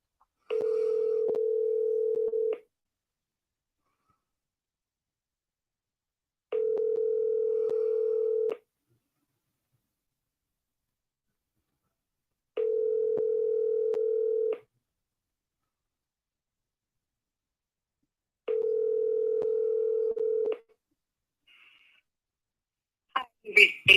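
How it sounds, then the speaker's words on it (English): A phone call rings unanswered, four evenly spaced ringback tones each about two seconds long separated by silence, followed by a faint click as the line picks up to voicemail. "Her phone always goes to voicemail."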